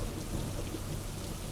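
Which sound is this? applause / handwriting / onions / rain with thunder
rain with thunder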